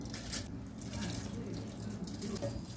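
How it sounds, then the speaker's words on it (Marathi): Water poured into a mixer grinder jar holding soaked rice for idli batter, a soft steady trickle running for a few seconds over a faint room hum. "थोडंसं पाणी टाकते।"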